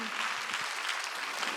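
A Korean church congregation at a Sunday worship service claps together, a brief burst of dense, steady clapping from many hands with faint low voices underneath.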